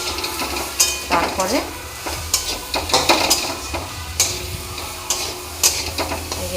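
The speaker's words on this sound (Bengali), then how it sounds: "এটা ভালো করে নেড়ে নিচ্ছি, ভালো করে নেড়ে দিই, একটু ভাজা ভাজা হয়ে যাবে।" Spices and salt are stirred and fried in a pan, with a spoon scraping and ticking against the metal in irregular strokes over a light sizzle, close and clear, as a voice speaks briefly.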